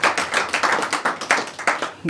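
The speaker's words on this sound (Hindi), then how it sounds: "एक बार जोरदार तालियां बजाएं" An audience at an open mic Urdu poetry evening claps in quick, steady bursts, close and fairly loud, with some voices mixed in.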